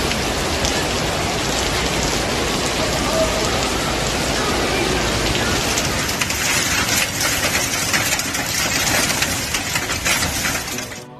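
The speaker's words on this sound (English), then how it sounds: "was hit by a severe storm and hailstorm, causing widespread damage and disruption" A severe storm with hail battering Zurich, a loud, dense roar of rain and hailstones striking surfaces continuously, with harsher rattling impacts and shifting intensity throughout.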